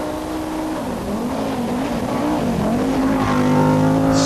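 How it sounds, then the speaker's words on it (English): Powerful Group A Audi Quattro rally car storming past on a loose-surface stage at the 1987 South Swedish Rally, its engine note rising and falling with gear changes, loud and close throughout and growing slightly toward the end. "Powerful Group A Audi Quattro,"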